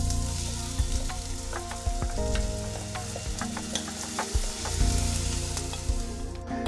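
Rice frying in oil in a pan for Mexican-style white rice, a steady close sizzle with scattered crackles and occasional stirring scrapes, no voices.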